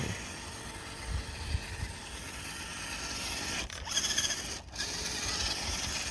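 A stock Redcat Everest 10 RC crawler runs across solid sheet ice, its small electric motor and gears giving a thin steady whirring drone with a couple of brief gaps and faint clicks, no one speaking.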